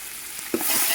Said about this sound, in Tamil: இப்போ அரிஞ்சு வச்ச வெங்காயத்தை போட்டுக்கலாம். போட்டதும் நல்லா வதக்கி விட்டுடலாம்.